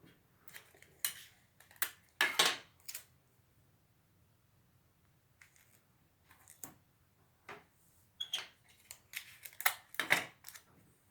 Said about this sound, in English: I'm going to put a piece of tape on each end the long way.